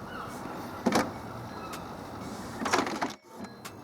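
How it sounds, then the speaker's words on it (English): An Epson Stylus SX235W printer runs its nozzle check self-test, giving off short intermittent mechanical whirs and clicks over a quiet background hum. "Now your printer will check its ability to print and then finally spit out this page"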